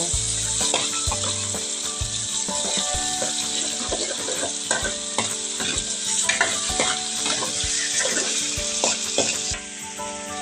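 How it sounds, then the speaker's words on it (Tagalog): Pumpkin shoots stir-fried in a pan over sautéed garlic, onion and tomato with bouillon cube and shrimp paste, giving a loud, continuous close sizzle broken by repeated clanking stirs of a metal spatula, with no voices. "Magigisa naman tayo ngayon ng talbos ng kalabasa"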